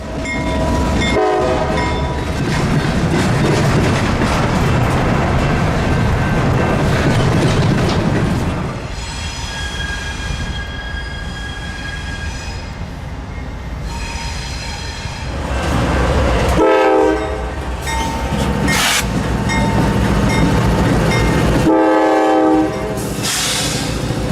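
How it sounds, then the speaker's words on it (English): Norfolk Southern freight trains working a rail yard in Jacksonville, with loud, sustained rumbling of railcars and repeated blasts of a diesel horn sounding close by, with no talking. "5330 was swiftly moving in and out of the yard, as well as 285 departing for the FEC to the south."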